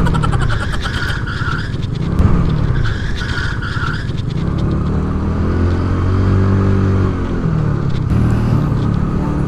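A Yamaha Mio scooter with light CVT rollers and a stiff clutch spring, ridden hard through city streets in Madiun, its engine revving high and continuous with steady wind rush, no talk over it.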